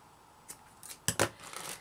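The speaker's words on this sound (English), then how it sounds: "So we're going to cut several lengths of cording." Scissors snip through lengths of cording for a handmade ribbon appliqué, giving a few quick, crisp cuts close by in a quiet room.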